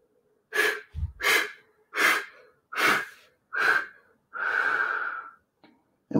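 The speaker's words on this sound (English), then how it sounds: "when you breathe out, you're gonna breathe out through your mouth" Yoga breathing with slow exhalations pushed out through the mouth: six close, breathy puffs in a steady rhythm, the last one longer and drawn out, with quiet pauses between.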